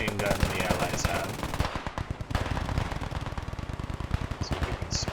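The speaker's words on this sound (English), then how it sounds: "the main platoon is spotted by the M1919, the only belt-fed machine gun the Allies have" An M1919 belt-fed machine gun fires in the World War II video game Operation Whirlwind, rapid loud bursts rattling continuously over a busy battlefield din.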